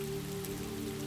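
Steady, even rain falls across a foggy, ivy-covered keep in the Scottish Isles, a soft continuous hiss laid over a low, constant hum, with no voices.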